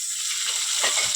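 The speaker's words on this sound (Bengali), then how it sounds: "চিংড়ি মাছগুলো তেল আর পেঁয়াজের মধ্যে দিয়ে দেবো" Prawns fry in hot oil with onion and green chilli, giving a loud, steady sizzling hiss close by, with a slight stirring rustle toward the end.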